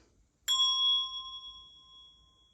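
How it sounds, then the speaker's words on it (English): A single strike on a Montessori bell rings out clearly, then a sustained bright tone lingers and slowly fades over about two seconds. "So we're going to strike the bell again."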